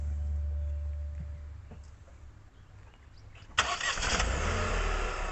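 A 2021 Dacia Sandero Stepway engine turns over and catches with a sudden loud start partway through, then settles into a steady close idle after a quiet stretch of faint background noise.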